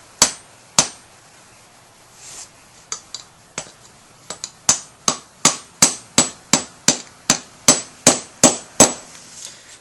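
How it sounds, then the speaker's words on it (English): Rubber mallet blows driving a spindle bearing seal on a Ford Bronco, a few spaced taps then a quickening run of sharp, close, regular strikes. "I like to use a rubber mallet because it should pose less of a risk of driving it in crooked"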